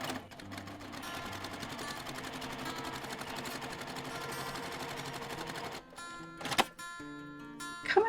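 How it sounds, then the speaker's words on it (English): A sewing machine stitches along the edge of a quilted stars-and-stripes table runner, running in a steady rapid whir for about six seconds, then stopping and giving a few short bursts of stitching. "I'm going to start on the very edge and then sew right down to the very bottom"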